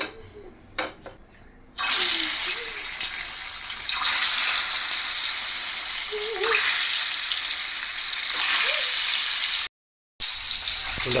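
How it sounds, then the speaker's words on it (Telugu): Eggs sizzling in hot oil with turmeric in a pan, a steady loud frying hiss that carries on almost without a break, with only short quiet gaps near the start and toward the end. "ఇలా పసుపు వేసుకోవడం వల్ల ఎగ్స్ ఈవెన్గా ఫ్రై అవుతాయి."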